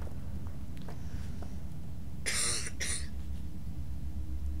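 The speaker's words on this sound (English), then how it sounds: "Oh, I keep coughing." Two quick harsh coughs, close to the microphone, over a steady low background hum.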